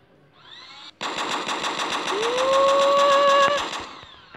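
A video game gun fires in one continuous rapid automatic burst for about two and a half seconds, loud and close, with a rising whine over the shots before it stops abruptly.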